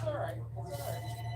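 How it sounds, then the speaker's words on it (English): A telephone rings faintly in the background of a live card-making session, its tone sitting low and steady beneath a quiet room hum. "Sorry about the phone ringing, if you hear it."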